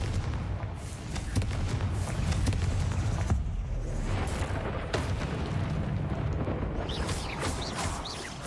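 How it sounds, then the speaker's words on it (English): Confringo fire spell blasts from Hogwarts Legacy, a sequence of booming, explosive bursts and sharp cracks over a steady rumbling game soundscape, fairly loud and continuous, with no talking. "Confringo."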